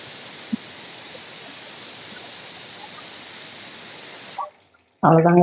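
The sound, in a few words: pressure cooker whistle while cooking chicken biryani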